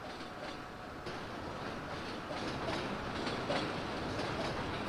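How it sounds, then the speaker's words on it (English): Train from the video game Rule the Rail running steadily, a continuous rumbling roll with faint rhythmic clatter, moderately loud and unbroken, no talking. "Over there is my train."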